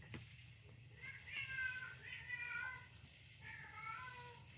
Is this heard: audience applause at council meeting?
no